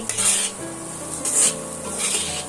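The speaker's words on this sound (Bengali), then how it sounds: "এইভাবে আমি মশলাগুলো সুন্দরভাবে কষিয়ে নিয়েছি" Spices for Punjabi aloo dum sizzling in a pan while a spoon stirs them, a steady close fry punctuated by three bursts of scraping and hissing.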